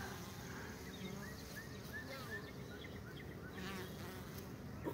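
A swarm of bees buzzes steadily around a log hive, a dense faint drone with individual insects passing close now and then, birds faintly in the background.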